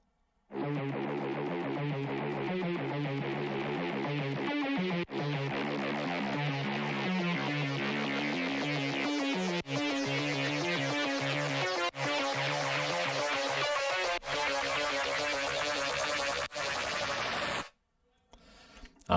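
Layered bass riff from a music production project, several instruments stacked on a repeating low melodic figure with a sub underneath, playing steadily and loud with brief dropouts before cutting off near the end; no voices.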